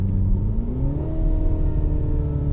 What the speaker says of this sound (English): you hear the backfire a little bit